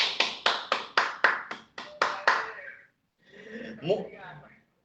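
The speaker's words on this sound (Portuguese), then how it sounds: "Um aplauso aqui para o irmão Eros" A small class audience claps in about nine short, separate bursts, then a voice follows near the end.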